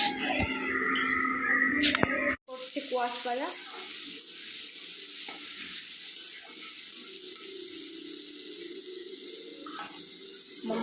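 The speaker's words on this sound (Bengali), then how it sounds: "আমের জন্য কোয়াশ ভাজা করে নিচ্ছি" Squash frying in a pan, a steady broadband sizzle that continues after a brief cut, heard close with people talking over it.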